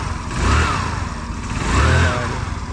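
A motorcycle engine runs steadily and close by, with a low rumbling hum that swells twice as it is revved gently, without any talking.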